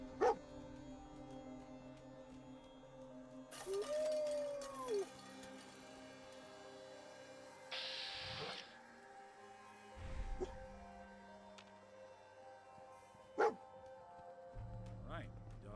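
A dog in the video game Cyberpunk 2077 gives a few short barks and yips scattered between other game sounds, mostly moderate and somewhat distant, with a louder sharp bark near the end.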